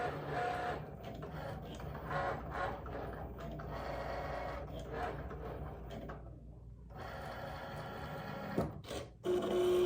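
A Maker cutting machine drives a pen across a card, whirring and clicking in short mechanical runs with small pauses, then a brief clunk near the end.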